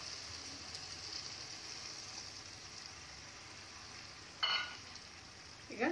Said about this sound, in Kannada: ಹುಣಸೆ ರಸ ಹಾಕೋಣ.